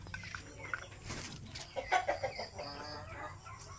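Chickens at a Philippine poultry farm cluck in short, irregular bursts at moderate distance over a low background din, with no voices.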